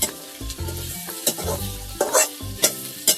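Soaked chickpeas fry with onions in a pan, giving a steady loud sizzle broken by repeated stirring scrapes and clanks of a utensil against the pan.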